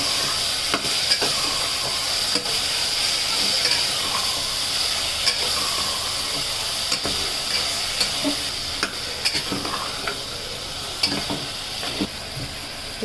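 Cut brinjal sautéing with tomatoes in a hot pan for brinjal thokku, a loud continuous sizzle and crackle with scattered stirring clicks and scrapes close by.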